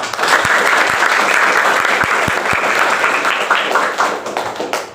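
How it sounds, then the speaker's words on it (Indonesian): A school class applauds together in a classroom, a dense, steady wash of many hands clapping close by for the full stretch, with a few sharper individual claps standing out and the sound thinning slightly toward the end. "Tepuk tangan untuk kita semua."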